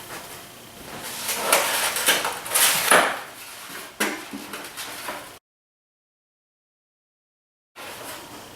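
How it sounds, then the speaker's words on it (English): Twelve eggs set in a single layer into a cooking pot, giving a run of light, close clinks and knocks against the pot. A stretch of silence follows, then a little more handling noise. "Add the 12 eggs, single layer in a pot."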